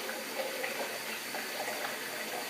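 Hot tap water runs steadily while brewing kit is rinsed out, a close, even, continuous rush of water with no voices.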